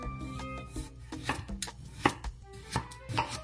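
Knife chopping golden potatoes into wedges on a cutting board, a run of close, uneven thuds and cuts with a sharper strike near the middle, with no talk.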